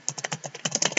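Quick, close keystrokes tap out on a computer keyboard as a name is entered in software, about a dozen crisp clicks in an uneven burst.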